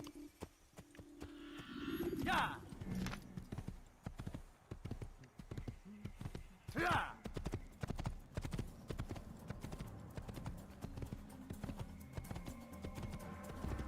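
Horse hooves clip-clop in a steady walking rhythm in Assassin's Creed, fairly close, with a couple of brief louder scuffs and no talking.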